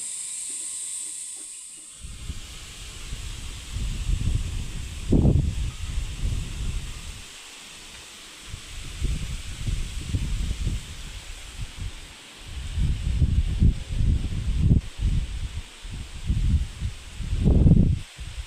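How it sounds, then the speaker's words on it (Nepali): Wind gusts outdoors in a hillside garden, rushing in uneven waves with leaves rustling, steady and fairly close, with no talk over it. "कस्तो हावा आउन"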